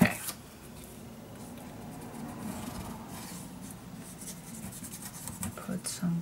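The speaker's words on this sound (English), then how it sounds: "It does when I burnish this down nicely with my bone folder." Paper being burnished flat with a bone folder while assembling a handmade secret storage book, a close, soft rubbing and scraping that continues steadily for several seconds, slightly louder near the end.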